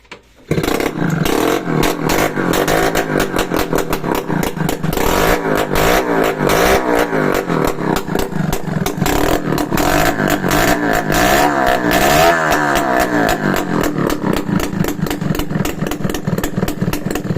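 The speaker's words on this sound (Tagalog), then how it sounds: "Start naman natin kung may start. Wala pang pipe kaya maingay." A Yamaha RS 100 motorcycle engine under restoration, with no exhaust pipe fitted, fires up after a brief silence, then runs loud and raw with rhythmic revving and harsh, uneven popping.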